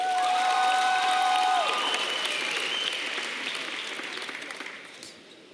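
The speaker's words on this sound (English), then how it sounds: "let's give these members a final round of applause" A large crowd at a state FFA convention award ceremony applauds loudly and steadily, with some cheering and a sustained whistle or tone early on, the clapping gradually thinning and fading toward the end.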